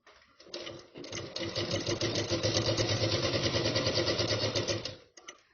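A sewing machine stitches a pant seam at a quarter-inch gap, whirring up into a fast, steady, close rattle of needle strokes for several seconds before slowing and stopping with a few final clicks.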